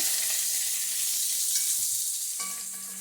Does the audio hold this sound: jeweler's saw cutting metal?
no